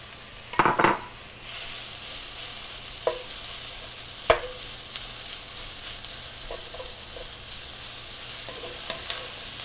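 Leftover adobada rotisserie pork sizzles in a hot pan under a steady frying hiss, with a spoon scraping and clinking against the pan in short, scattered bursts, loudest near the start.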